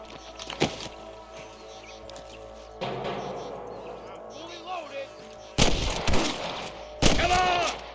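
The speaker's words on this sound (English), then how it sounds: "I can hear more gunshots." Gunfire in the Red Dead Redemption shootout at Pike's Basin: a sharp early shot, then bursts of rifle fire and booming blasts at intervals, with shouting voices between.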